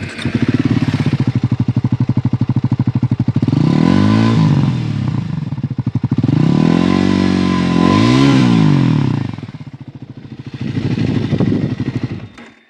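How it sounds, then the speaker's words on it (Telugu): A 2026 Triumph Scrambler 400X with a six-speed manual transmission idling with a throbbing exhaust note, then revved hard three times in rising and falling swells, loud and close. "దీని ఎగ్జాస్ట్ సౌండ్ విందాం మనం"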